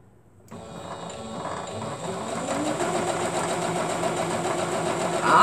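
A serger sewing machine starts up and runs steadily with a close mechanical whir and rapid stitching rattle, building slightly louder toward the end.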